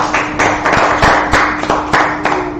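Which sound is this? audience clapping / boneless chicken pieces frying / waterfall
audience clapping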